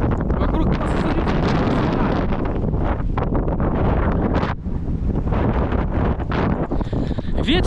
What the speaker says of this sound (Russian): Ветер пипец, вы, наверное, поэтому меня плохо слышите.